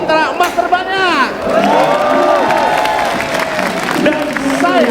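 A classroom crowd of children cheers, shouts and claps for Indonesia's SEA Games gold medals, a loud burst of mixed voices and applause that continues under whoops.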